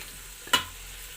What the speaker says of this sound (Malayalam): ഇനി നമുക്ക് വറുത്ത് വെച്ചേക്കുന്ന ചിക്കൻ അതിനകത്തോടെ ഇട്ട് കൊടുക്കാം